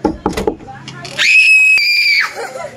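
A loud, high-pitched scream held for about a second, following a few short bursts of voices, then fading into quieter chatter.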